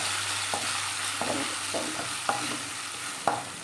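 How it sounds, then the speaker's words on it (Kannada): Raw green mango pieces frying in a pan for mango rice, with a soft continuous sizzle broken by several sharp scrapes and knocks as a utensil stirs them at irregular intervals. "ಮಾವಿನಕಾಯಿ ಹಾಕಿ ಒಂದು 5 ನಿಮಿಷ, ಒಂದು 2 ನಿಮಿಷ ಹಿಂಗೆ ತಿರುವಾಕ್ಬಿಟ್ಟು"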